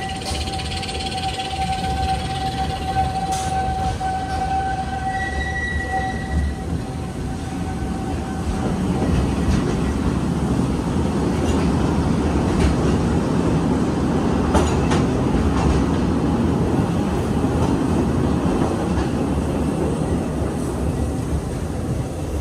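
The Magic Kingdom railroad train rolls along its tracks in a steady, continuous rumble with faint clatter, close and even throughout, with no one speaking.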